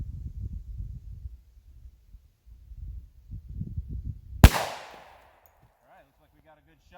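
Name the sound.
10mm gunshot with Underwood Xtreme Hunter bullet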